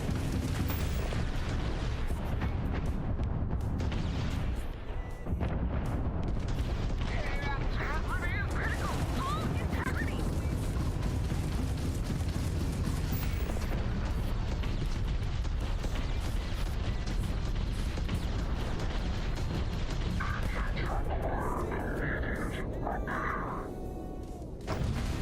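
Starfield autocannon fires automatically in a dense, continuous barrage of booms and blasts during Terran Armada DLC combat on extreme difficulty, loud and sustained throughout, with game music and a voice talking over it.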